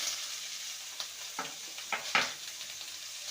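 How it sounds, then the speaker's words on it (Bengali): Pointed gourd frying in a pan with a pinch of salt and turmeric over low gas flame, with a soft steady sizzle and a few scraping stirs of a spatula, quiet and close. "ভালো করে নেড়ে নিয়ে সামান্য লবণ হলুদ দিয়ে পাওয়ার কমিয়ে ভেজে নেব"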